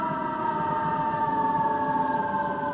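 Fire engine and ambulance sirens wail steadily and loudly as emergency vehicles pass along a city street, with a truck engine rumbling beneath.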